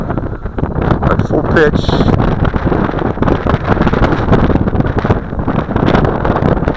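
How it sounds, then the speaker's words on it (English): Strong wind buffets the microphone around a Syma X5C quadcopter flying at full pitch and about three-quarters throttle, making a loud, continuous roaring rumble throughout while someone speaks briefly. "Beginner can't fight this wind at all."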